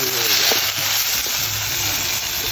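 Tomatoes sautéing in a pan for a curry give a steady, soft sizzle with some faint clatter throughout the short stretch.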